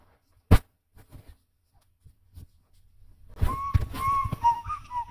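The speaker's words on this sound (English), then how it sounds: "Who the frick is whistling?" In the video game Baldi's Basics, a sharp thump, a few soft taps, then a clear melodic whistle rising and falling over low rumbling background noise.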